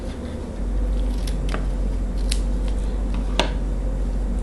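Scissors snip construction paper in a few sparse, quick cuts over a steady low hum, close and distinct, with no talking.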